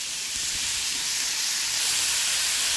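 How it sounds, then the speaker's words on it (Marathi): Onion roasting with salt in a hot pan, giving a steady, close sizzling hiss with no talk. "आता मीठ टाकलं मी, आता आधी छान भाजू द्यायचा कांदा।"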